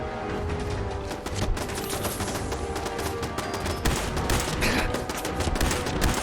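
Dense, continuous gunfire in Fallout 4, a loud crackling barrage of overlapping shots with no clear gaps.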